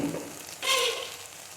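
Ground masala paste dropped into hot oil for idkidbele saaru bursts into a loud, sudden sizzle that swells then slowly fades into a steady frying hiss, heard alone.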